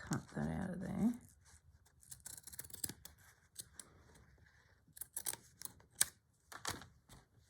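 Scissors snipping through fabric while making a stitched spring flower, a few short crisp cuts scattered across the clip with quiet gaps between them, after a brief spell of speech at the start.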